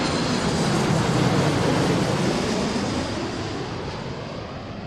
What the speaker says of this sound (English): 737 MAX 9.